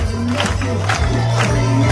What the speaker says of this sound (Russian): Давайте поаплодируем дальше на Софке